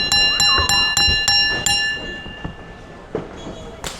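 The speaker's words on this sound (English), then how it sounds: "an awful lot of bells for the beginning of the match" A ring bell clangs sharply about six times in quick succession to start a pro wrestling match at a Man's Expo show, bright metallic rings over crowd noise and commentary, then fading as the action begins.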